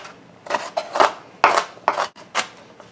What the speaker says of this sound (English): Continue that process and chop up your whole onion.